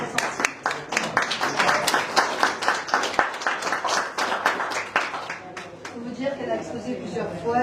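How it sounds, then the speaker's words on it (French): Scattered clapping from a small audience at an art exhibition opening, individual claps distinct and close, tapering off near the end as voices begin talking. "on peut l'applaudir aussi"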